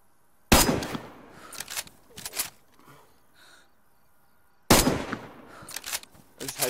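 Gunshots ring out in the online survival game DayZ, two sharp loud bursts a few seconds apart, each trailed by quicker follow-up shots and faint in-game noise between them.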